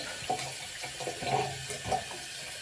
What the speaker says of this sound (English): I'm thinking when I run this under the tap